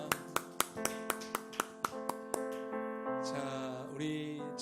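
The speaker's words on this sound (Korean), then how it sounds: "우리 하나님께 영광의 박수 올려드리십시다." Church congregation clapping in steady unison, about ten evenly spaced sharp claps, then giving way to sustained keyboard tones, all fairly quiet.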